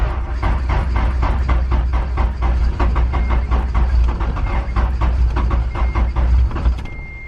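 A Honda B18C1 engine swapped into a wagon runs as a loud, steady, close rumble with rapid rhythmic pulsing throughout, then eases off slightly at the very end.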